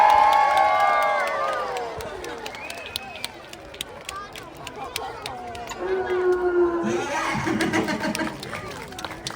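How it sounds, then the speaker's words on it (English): A crowd at a safari park's sea lion show cheers and shouts as the sea lion jumps, a loud, sustained swell of voices that rises and falls, with splashy bursts near the end. "we're all going to give him a cheer"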